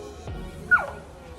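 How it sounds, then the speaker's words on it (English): Local dogs in Turkey howl along to an Islamic call to prayer, heard as a short, faint whimpering yip that rises and slides down. Muffled background noise continues throughout. "the local dogs then started howling along to the call"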